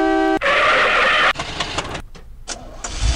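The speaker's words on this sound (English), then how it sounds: "I also need this to do the car noise." A car engine revs loudly and steadily, then cuts out into short bursts of noise with brief gaps, close and prominent.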